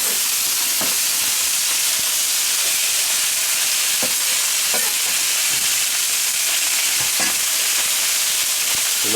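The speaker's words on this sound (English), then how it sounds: "Let that saute up a little bit." Onion sautéing in a hot pan for enchiladas, a steady bright sizzle with a few soft stirring scrapes and clicks, close and continuous with no talk.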